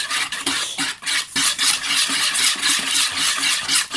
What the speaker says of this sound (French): Lucas nous a dit qu'on allait mélanger jusqu'à ce que ça blanchisse